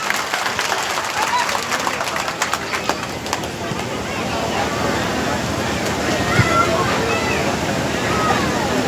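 An outdoor crowd at a Kurmi community gathering in Jharkhand applauds a singer, a loud sustained wash of clapping and cheering from a large audience that swells and holds steady without a break.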